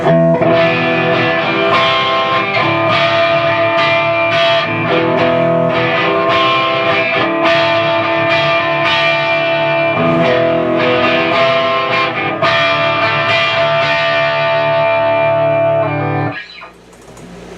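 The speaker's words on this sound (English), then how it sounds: "you can hear those preamp tubes really breaking up nicely" Loud, gritty electric guitar chords through an overdriven tube preamp, the tubes breaking up with thick crunchy distortion, ring continuously, then cut off abruptly near the end.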